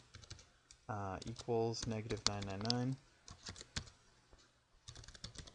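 Code is typed on a computer keyboard in quick bursts of clicking keystrokes, with someone speaking over part of the typing.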